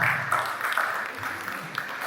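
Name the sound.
audience applause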